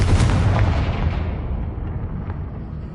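A Confringo spell blast in a Harry Potter video game bursts loud and close as a heavy, booming explosion that rolls on with a sustained rumble and slowly fades over a few seconds.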